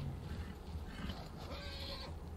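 A horse in the video game Red Dead Redemption 2 whinnies, agitated by a nearby predator; a quiet, fairly distant neigh over low background ambience.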